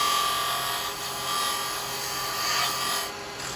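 A carbide chisel cutting into a small wooden piece spinning on a lathe, a continuous close rasping scrape that swells and eases gently over a few seconds, with a faint high whine running underneath and no voices.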